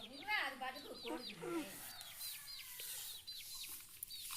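Baby chicken chicks cheep rapidly in high, thin, repeated peeps close by on a farm garden, with a person talking over the first couple of seconds.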